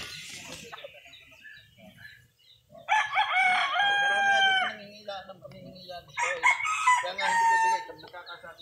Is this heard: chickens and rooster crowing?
yes